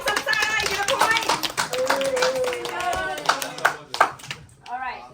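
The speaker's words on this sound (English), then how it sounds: "So that's a round of applause for Team Samsara." A youth group gives a round of applause for a quiz team, clapping and tapping hands throughout, with children's voices talking and calling out over and between the claps.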